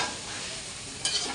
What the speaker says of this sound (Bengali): আমি শুধু এই যে ভাজা ভাজা করার মতো শুধু নাড়তেছি আর নাড়তেছি।